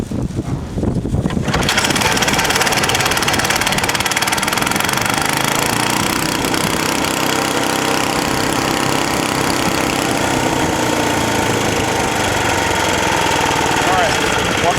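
A WW Chippewa wood chipper's engine cranks briefly, then catches and runs loud and steady close by, a dense continuous rumble that fills the rest of the clip.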